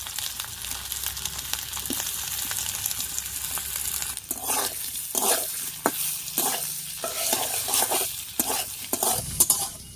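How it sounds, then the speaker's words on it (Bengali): Potatoes sizzle on tempered spices in a pan while a spatula scrapes and stirs in quick repeated strokes, the frying hiss steady underneath and growing busier midway. "ফোড়নের উপরে আলুটা দিয়ে একটু নাড়িয়ে নিয়েছি।"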